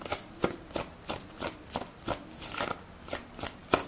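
Angel blessing cards are shuffled for a tarot reading in quick, regular riffling bursts, about a dozen crisp close flicks in steady rhythm with no voice.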